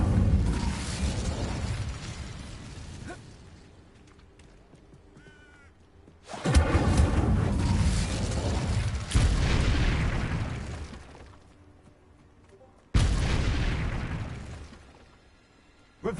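The Incendio fire spell in Hogwarts Legacy on PS5 goes off in three separate loud, whooshing bursts, each a roaring blast that crackles and then fades over a few seconds, with quiet stretches between them.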